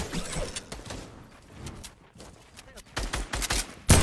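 Rapid bursts of video game gunfire during a competitive multiplayer shooter match crackle in clusters, loudest near the end, with voices talking over parts of the action.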